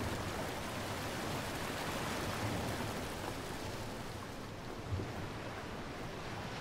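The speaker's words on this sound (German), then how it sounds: "Hier wäre Wasser." Water waves in the video game Prince of Persia: Warrior Within, a steady, soft, broadband wash of surf-like noise with small swells, continuous and without speech.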